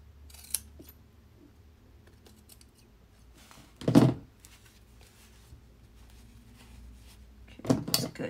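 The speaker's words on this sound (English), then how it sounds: "So I'm going to have to use my fabric scissors." Fabric scissors snip through a cardboard cake mix box, with two distinct crisp cutting bursts in a quiet room, the second slightly longer, plus a faint tap early on.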